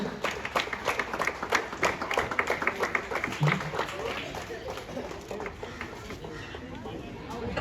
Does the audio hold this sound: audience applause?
yes